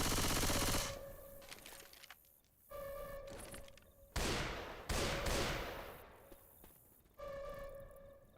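Machine gun fire in Left 4 Dead 2, loud sustained bursts separated by short pauses, with sharp rattling shots and no talking.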